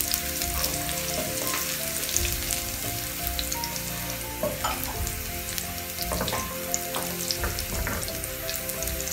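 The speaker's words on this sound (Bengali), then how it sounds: "এখন আমরা রসুন কিমাগুলো দিয়ে দিচ্ছি।" Minced garlic dropped into hot oil for a restaurant-style Thai soup, a constant dense crackling sizzle close up, with scattered sharper pops and faint stirring throughout.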